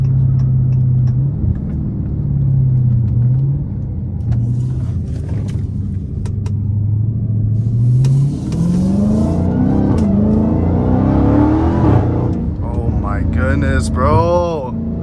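A Dodge Hellcat Redeye engine accelerates onto a freeway, its deep rumble climbing through rising revs in long pulls, loud from inside the cabin, with someone talking over it near the end.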